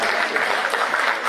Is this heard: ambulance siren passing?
no